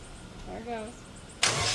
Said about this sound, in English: The battery's done. You have to keep cranking.